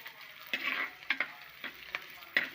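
Garlic and shallots sauté in a hot pan for a fish curry, a soft steady sizzle broken by several sharp stirring scrapes and clicks at irregular intervals, close and moderately quiet with no talking.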